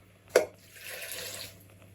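Water from a measured 300 ml is poured into a pot of chopped foraged apples, a short splash followed by a brief, soft gush that fades within a second or two.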